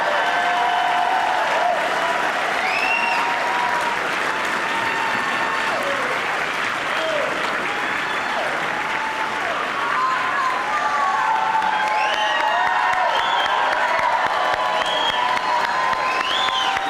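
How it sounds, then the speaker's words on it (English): Audience at a fire department recruit graduation claps in a sustained, dense burst of applause, with scattered whoops and cheers mixed in throughout. "give them a round of applause very quickly"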